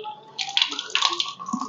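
Water splashes and trickles in short bursts as it is drawn into the nose during wudu ablution, close and moderately loud, with a faint dripping between splashes.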